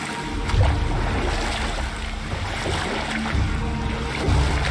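Sea water lapping in the God of War video game, a soft continuous wash of waves against a boat with gentle swells and a few louder surges, under quiet ambience.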